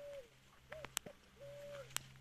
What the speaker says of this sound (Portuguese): É pássaro preto aquilo ali?